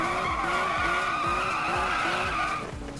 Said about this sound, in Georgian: ეხლა მაჩვენე დრიფტში